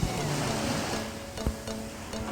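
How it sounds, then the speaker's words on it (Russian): Strong autumn sea waves break on the shore in a loud, continuous rush, with gusts of wind buffeting the microphone. "Тут, короче, осенью на море очень сильные волны."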